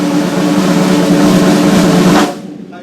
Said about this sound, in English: So I'm buzzing the snare.